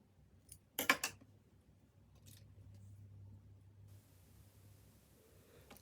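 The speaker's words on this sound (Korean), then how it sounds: "끝부분을 사선으로 자릅니다." Scissors snipping the fabric seam allowance diagonally at a corner while sewing a summer cardigan: a brief cluster of three or four close crisp cuts, then quiet rustling.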